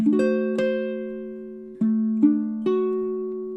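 D: A baritone ukulele plays measure 15 of a song with a handful of plucked notes and chords, each ringing out and decaying, close and alone.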